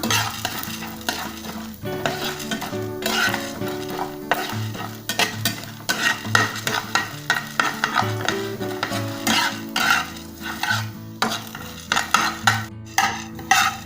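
Urad dal and chana dal frying and being stirred in a pan until golden, with a sustained sizzle and rhythmic spoon scrapes against the metal over a steady background hum, close and with no voices.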